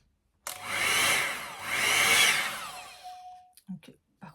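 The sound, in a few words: Revlon hot air straightening brush running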